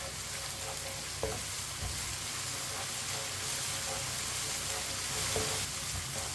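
Onions and crushed garlic frying in a pan over medium heat while being stirred, a dense constant sizzle broken by occasional utensil clicks against the pan and no speech.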